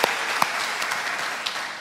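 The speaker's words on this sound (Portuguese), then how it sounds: "Você pode dar um aplauso a Ele" A church congregation claps together, a dense, steady wash of applause with a few sharper individual claps standing out.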